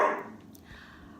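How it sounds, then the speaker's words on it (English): Sadie, a pet dog, gives a single short bark indoors at moderate distance, a quick sharp burst that fades into room quiet. "That's Sadie's bark."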